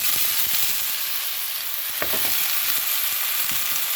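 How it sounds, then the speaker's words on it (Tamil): Ridge gourd peels hit hot oil with a loud, steady sizzle, a dense hiss broken by a few sharper crackles and spatters, with no one speaking. "இப்போ இதில் நம்ம பீக்கங்காய் தோலை சேர்த்துடலாம்"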